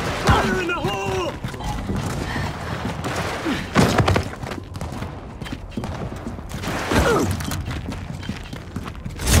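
A grenade explodes during a Gears of War 4 multiplayer match, with heavy booming thuds among gunfire and other game effects, while character voices talk over the action.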